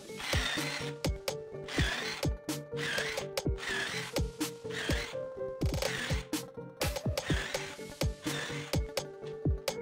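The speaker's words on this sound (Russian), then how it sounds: "Берем сверло и просверливаем." A drill bores holes in wooden slats for a small furniture frame, giving bursts of whirring and grinding broken by sharp clicks and knocks in an uneven, repeating rhythm, close and fairly loud.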